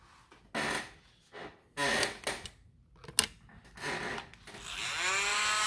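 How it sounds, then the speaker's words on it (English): A Morgan silver dollar coin ring is sanded by hand, with intermittent raspy, abrasive rubbing strokes at close range between quieter pauses, ending in a longer scratchy pass. "We're going to now sand that part. So we're going to sand down the shiny part."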